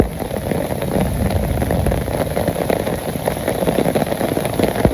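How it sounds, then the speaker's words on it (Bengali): Rain falls steadily and close by, a continuous dense hiss with a faint patter of drops, holding at an even level throughout without any voices. "অনেক অনেক সুন্দর বৃষ্টি হইতেছে।"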